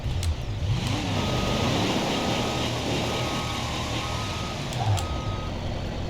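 A semi truck in BeamNG.drive rolls with a low engine rumble while reversing beeps sound in a steady repeating rhythm over it, loud and continuous.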